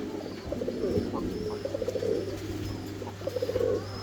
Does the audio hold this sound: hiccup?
no